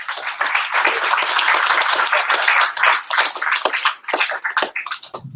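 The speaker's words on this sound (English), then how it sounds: "So another round of applause to these guys." Audience applause after a talk on using Chrome DevTools, a loud, dense round of clapping that holds steady before thinning into scattered claps near the end.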